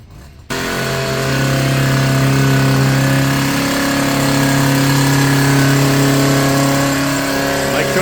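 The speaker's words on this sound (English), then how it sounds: "we're about to start the rotary broom and start to work that sand in" A motorized rotary broom starts up and runs steadily outdoors, working sand into artificial grass with a loud, constant engine-like drone and a strong low hum throughout.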